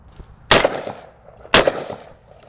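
Two loud, sharp shotgun blasts from a Browning, spaced about a second apart, each with a short trailing echo, heard close and clear with no talking.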